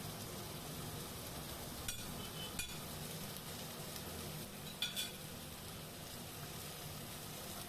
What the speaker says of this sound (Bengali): বেগুনটা একটু ভাজা ভাজা হয়ে আসলে তার মধ্যে বাকি সবজিগুলো সব আমি দিয়ে দেব। আলু, কুমড়ো, ঝিঙে সব কিছু দিয়ে ভালো করে ভেজে নেব।